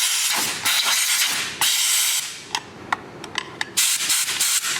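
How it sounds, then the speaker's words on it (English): Compressed air sprays in loud hissing bursts into a Ford Fusion's spark plug wells, several long blasts broken by short quick puffs, close by with no talking. "So what we can do is grab some compressed air"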